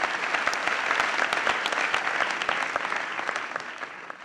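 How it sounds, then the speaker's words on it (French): Sustained audience applause for children on a comedy stage show, dense, even clapping from a sizeable crowd that stays steady and then eases off slightly toward the end. "Applaudissez pour les enfants de nouvelle génération."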